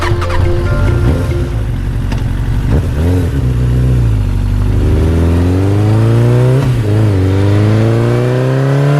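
Car engine revving hard as the vehicle speeds along, a loud continuous roar with rising and falling pitch sweeps close by.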